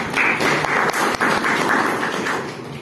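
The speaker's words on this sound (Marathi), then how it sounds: "आणि या गोष्टीसाठी एकदा आमच्या पौळ सरांसाठी एकदा टाळ्या वाजवल्या." Audience applause at an education gathering in Osmanabad district, a dense, steady wash of clapping that holds for about three seconds before tapering slightly, with no voices over it.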